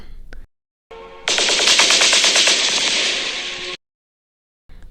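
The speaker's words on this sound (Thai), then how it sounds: "ปืนกลหนักของฝ่ายว้าประสานงานกับปืนอากาศทันที" Heavy machine gun fire in a Thai-language audio drama battle scene, a loud sustained rattling burst of rapid shots lasting over two seconds, framed by brief quieter sounds and silence.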